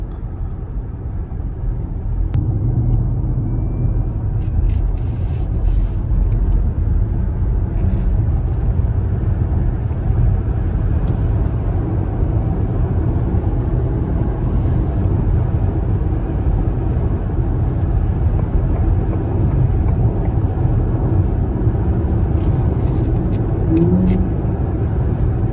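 A Ford Mustang Mach-E cruises on the interstate, with steady road and tire rumble heard from inside the cabin and a few faint clicks and rattles over the continuous drone.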